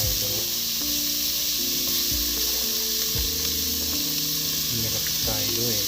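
Onions frying in a pan for a Telugu-style chicken dish, a strong steady sizzle with stirring scrapes, under droning background music or hum.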